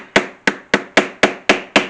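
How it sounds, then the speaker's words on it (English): A mallet strikes a metal stamp into leather while a Christmas ornament is being made, giving seven sharp, evenly spaced thwacks in quick succession, close and loud. "go ahead and pick up your mallet,"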